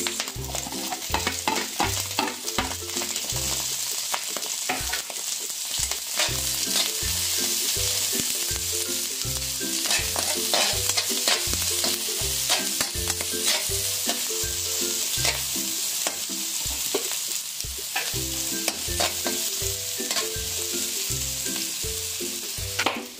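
Onions frying in a wok for pansit bato, a constant hiss with rapid, rhythmic scraping of a spatula against the metal, close and steady throughout.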